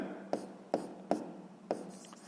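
Pen writing by hand on paper during a sixth-grade maths lesson, four quick, separate soft scratches and taps spaced about half a second apart, close and quiet, with no speech over them.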